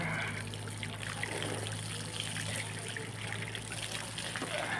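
Water runs and splashes steadily outdoors during a bath, a continuous close trickling wash that holds at an even level throughout.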